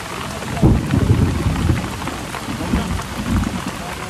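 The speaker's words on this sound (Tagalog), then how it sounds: "Video ka ng kulog." Steady heavy rain pours on a farm throughout, with deep rumbles of thunder rolling underneath, swelling loudest near the start and again toward the end.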